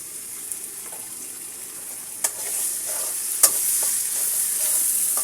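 Ginger garlic paste fries in hot oil while being stirred, part of a beef tripe dish, giving a steady bright sizzle with a few sharp spatula clicks against the pan, close and without talk.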